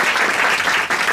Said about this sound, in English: Give a round of applause for Samantha.